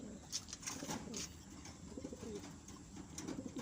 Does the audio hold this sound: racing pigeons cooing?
yes